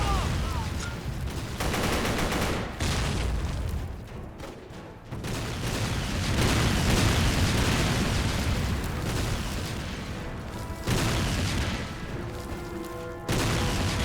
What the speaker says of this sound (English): Pretty nice area to use a grenade right here.